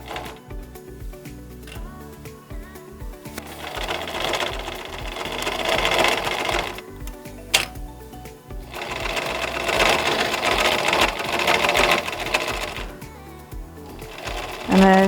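Sewing machine stitching a cloth face mask seam, running back and forth to reinforce it: steady loud mechanical whirring with bursts of faster stitching separated by brief pauses, close up.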